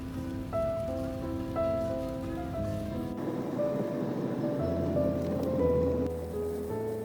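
Steady rain falls during a long road trip, a continuous dense patter heard from inside a vehicle over a low road rumble, with no voices.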